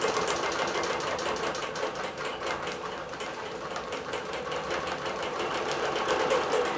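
A sewing machine stitches thread at a steady, rapid rhythm, its fast mechanical whirring running continuously and close by with no talk.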